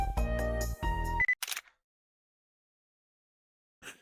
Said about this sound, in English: Tamao attempted to jump to her feet upon hearing the sound of the shutter.